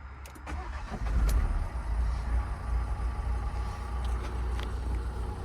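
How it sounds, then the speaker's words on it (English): A truck engine idling steadily in the near field after a cold start, with a low continuous rumble that surges and sags unevenly as the idle hunts, plus a few sharp ticks early on. "Now I just started this up to get it off the back of the truck and it does sound perfect, but it started hunting."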